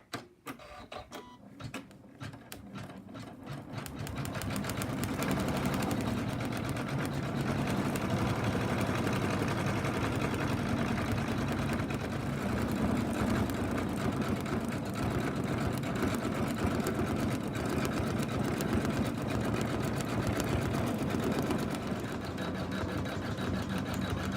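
A home embroidery machine stitches the black eyebrows, eyes, nostrils and mouth onto an in-the-hoop pig softie, a steady close mechanical whirr and rapid needle chatter running continuously after a brief start-up.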